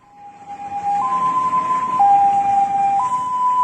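An ambulance siren in rural Dawei Township, Myanmar, sounds loud and close, alternating between two tones roughly once per second over a steady rush of background noise.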